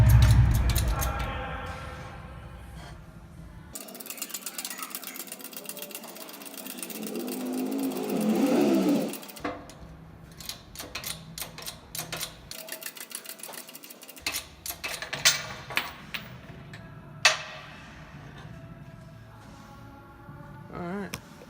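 A motorcycle cam being pressed out of its cam plate in a workshop press, with sharp mechanical clicks, creaks and clanks, a loud grinding stretch around the middle, and scattered metallic knocks, mostly near and without talk.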